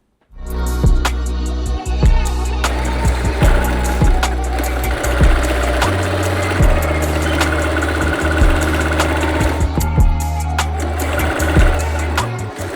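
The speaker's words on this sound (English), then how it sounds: "I'm going to kind of like zigzag stitch the edges so they don't kind of like fray and distress" A sewing machine runs steadily as it zigzag stitches along the raw seam edges of a long-sleeve garment. The motor hum holds close and even, with its pitch stepping up and down as the speed changes, and no talk over it.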